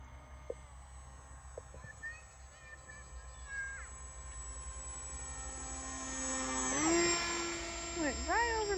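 Airplane taking off from a runway and passing overhead, a rising engine roar that grows louder and peaks as it goes by, with people talking briefly and a whistling tone sweeping down afterward.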